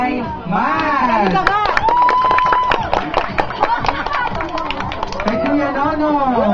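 Audience clapping at a fifth anniversary party, rapid scattered claps from a small group under loud excited voices and chatter, with people talking throughout.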